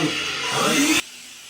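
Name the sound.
vacuum cleaner cleaning a bathtub before refinishing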